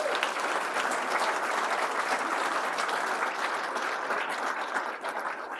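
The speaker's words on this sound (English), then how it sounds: "they deserve a huge round of applause" Guests at an athletics hall of fame induction dinner give committee members a sustained round of applause, a dense, even wash of clapping from a large room with no break.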